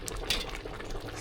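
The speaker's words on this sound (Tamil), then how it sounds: "சிக்கன் பிரியாணிக்கு முன்னாடி வர பபிள்ஸ்." Chicken biryani simmering in a pot, with steady bubbling and soft gurgling close by and no talk.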